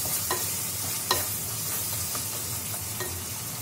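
Tomatoes frying in a pan for crab curry: a steady close sizzle punctuated by several sharp spatula taps and scrapes against the pan at irregular intervals, with no speech.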